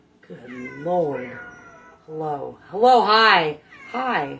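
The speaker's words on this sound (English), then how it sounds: "So if you hear the cat meowing in the back" An indoor cat in a home kitchen gives several drawn-out, rising and falling meows close by, interleaved with a person's short greetings.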